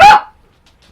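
A single loud, close dog bark aimed at neighbors, a sharp burst that fades within a fraction of a second into near silence.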